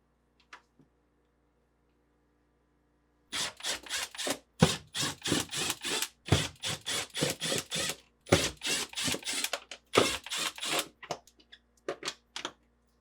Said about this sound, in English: using a 1/4 inch nut driver, remove these 5 screws.